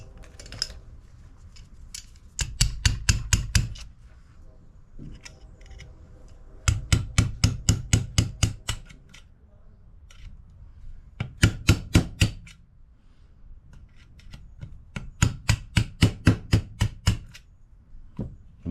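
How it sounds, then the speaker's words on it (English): A small flat blade tapped with quick hammer strikes to drive out an oil seal on a 1993 Kawasaki KX125 dirt bike, sharp metallic taps in four rapid bursts of roughly six to ten hits each, close and crisp with quiet pauses between. "This little flat blade. See if we can't give it a tappy and get it out."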